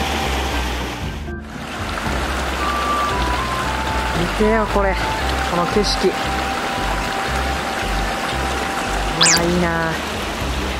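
River water flows steadily beside a campsite at Sainokuni Camp Village in Saitama, a continuous rushing wash with people talking over it and brief knocks and squeaks.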